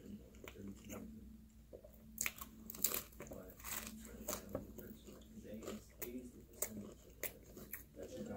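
Close, soft chewing and biting on pizza during an eating challenge, with wet mastication and occasional crisp crunches in an irregular rhythm over a quiet background, and a low voice in places.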